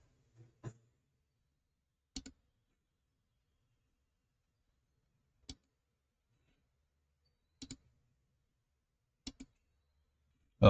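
Sparse, sharp mouse clicks on a computer, pressing a run button to download and run VEX EXP robot code, about six isolated clicks spaced a second or more apart in an otherwise quiet room.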